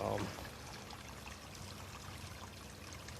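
Wildcat Creek, a small stream holding little fish, flows with a steady, even rushing wash that stays constant throughout, opening with a brief louder murmur.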